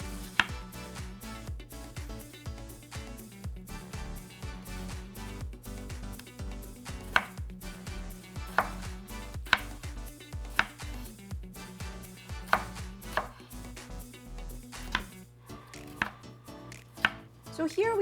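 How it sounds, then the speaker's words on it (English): Vegetables, including broccoli stems and florets, are chopped on a cutting board for a vegetable doenjang soup, with a steady run of quick knife taps under continuous background music. "So here we have all the vegetables chopped up"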